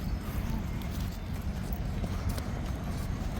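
Horse hooves clip-clop in a quick steady rhythm on a beach at night, close and continuous under a broad noisy wash of wind and surf.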